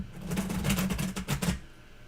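A stack of cards riffled and shuffled in a rapid, crisp flutter of soft snaps lasting over a second, close by, then settling into quiet.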